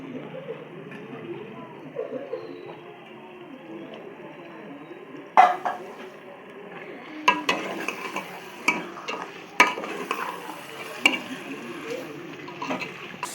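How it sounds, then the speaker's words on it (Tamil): Chicken is fried and stirred with chilli powder, chicken masala and rock salt in a pan, with a soft sizzle beneath repeated scraping clinks and knocks from the spoon against the pan. "இப்போ வந்து சிக்கனை ஆட் பண்ணிக்கலாம்"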